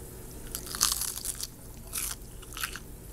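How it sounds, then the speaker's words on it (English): Crispy fried fish from a homemade fish-and-chips meal gets bitten and chewed, several sharp crunches up close over a quiet background. "Can you hear the crunch?"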